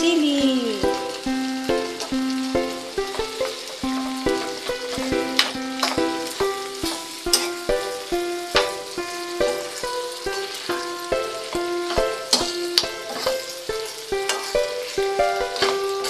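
Fried eggplant and chili go into a pan while pork binagoongan cooks, giving a continuous sizzle with crackling pops and stirring clatter close by, while music plays throughout.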